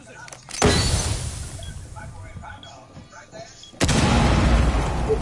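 Grenade blasts in a PS4 shooter game, two heavy booms with a sharp onset, the first followed by a decaying rumble with faint game noise, the second a sustained roar to the end, with voices talking.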